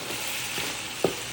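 Pork giniling sautéing in a pan, a steady broadband sizzle holding throughout, broken by a few soft stirring scrapes and one brief louder clatter near the end, with no voices.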